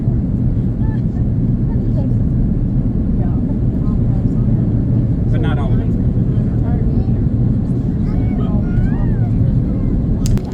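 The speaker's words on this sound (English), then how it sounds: "The plane is landing, and yeah, really exciting for me anyway." Cabin of an airliner descending to land at Frankfurt, a loud steady low engine and air roar that runs throughout, with a brief spoken remark over it.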